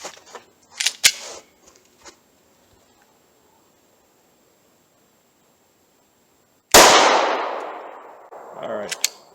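Taurus G2C pistol fired on a range, a few sharp close reports early on, a long quiet gap, then one loud shot with a ringing decay and trailing clatter.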